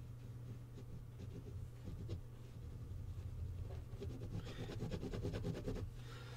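Pen drawing on paper to sketch a door jamb and door hardware, a continuous scratchy scribble with rapid back-and-forth strokes over a steady low hum, growing busier and louder toward the end.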